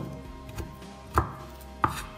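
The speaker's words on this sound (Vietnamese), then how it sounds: "Băm cà rốt nhỏ rồi này" A knife mincing carrot strikes a cutting board a few times: two distinct chops stand out, one just after the first second and one near the end, with fainter taps between them and no voices.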